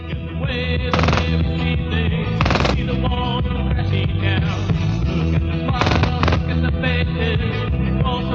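A MAC-10 machine gun fires 9mm rounds in long, very rapid bursts, loud and close, the dense rattle running almost continuously with brief gaps, and no voices over it.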